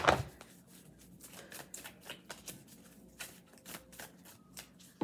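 Tarot cards being shuffled in quick riffling bursts, a crisp flutter that starts with a sharp snap and repeats several times at close range.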